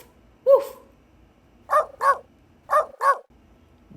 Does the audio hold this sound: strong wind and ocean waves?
no